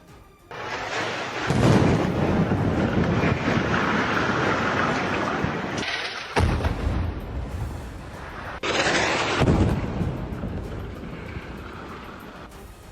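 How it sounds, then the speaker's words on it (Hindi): Loud, sustained roaring rumbles from explosions during an Israeli military strike on a district of Beirut, Lebanon, with two big bursts swelling up and fading, heard alone without any talk. "बेरूत के उस हिस्से में कई और भी धमाके हुए"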